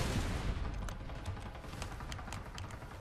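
Gunfire in the battle game Farlight 84: distant, faint bursts of shots and muffled booms roll under a steady wash of background noise.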